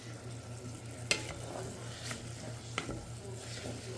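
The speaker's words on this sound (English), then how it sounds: "Then we're going to add our rice into that garlic and butter." Rice frying in a pan of garlic and butter, a steady soft sizzle with a low hum underneath and a few sharp scrapes of stirring spaced through it.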